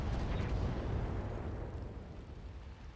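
Mech weapons firing a full volley in the video game RogueTech, heard as a dense, loud burst of rumbling explosions that gradually tapers off over a few seconds.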